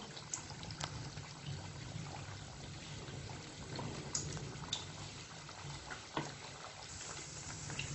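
Wheat flour sweet biscuits fry in hot oil, giving a steady soft sizzle with a bubbling, trickling texture and a few faint clicks throughout, moderately quiet and continuous with no talking.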